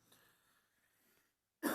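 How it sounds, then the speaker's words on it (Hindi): A man lets out a single sudden, loud cough close by after a moment of near silence. The cough is cut off right as it starts. "थोड़ी सी खांसी उठ रही है।"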